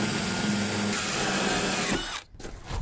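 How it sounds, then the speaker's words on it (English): A power drill bores through the plywood wall of a van, a loud close steady whir that cuts out abruptly near the end, followed by quiet. "This is the first hole I've drilled in the van."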